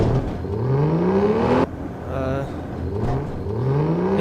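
A car engine in a physics video game revs up loudly in rising sweeps, drops off abruptly, then climbs again in repeated whining surges.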